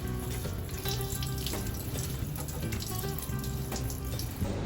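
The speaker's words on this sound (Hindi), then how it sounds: "मैं हाथ धो रही हूँ।" A water tap runs steadily into a sink while hands are washed at home, a loud continuous close hiss and splash with slight fluctuations throughout and no talking.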